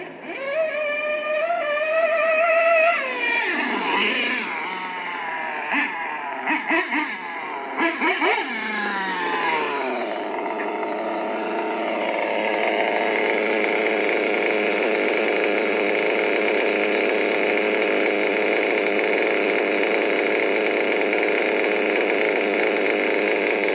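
A gas-powered 5b RC car engine revs hard near full throttle, a loud, close, buzzy two-stroke howl with several sharp blips early on before it settles into a long, steady high-pitched scream.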